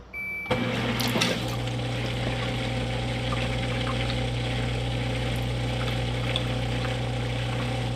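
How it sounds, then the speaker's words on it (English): A countertop dishwasher fills with water after its door is shut, a steady pump hum and rushing trickle starting abruptly and running on continuously at moderate level, with a brief clatter near the start. "Alright, we're filling up with water down here."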